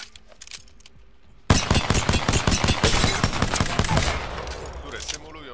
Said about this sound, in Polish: Mamy tarcze, dzięki którym możemy ćwiczyć, jak widzicie, oddawanie strzałów na odległość do celów ruchomych.